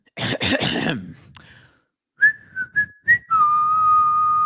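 A burst of talk, then people whistling the Bally Sports theme: several short whistled notes followed by a long sustained whistled tone, close and clear.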